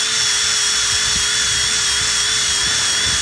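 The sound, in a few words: Power-TEC stripe off disc removing vehicle decals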